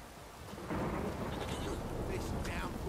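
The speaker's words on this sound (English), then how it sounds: "This downpour's a bastard, it is." Thunder rumbles over a heavy rain downpour in The Witcher 3 video game, a dense steady roar that swells after a quieter start and stays loud throughout.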